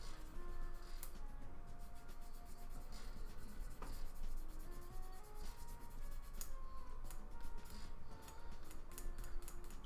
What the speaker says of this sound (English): Doing a lot of filing today to try and get rid of some of these nubs.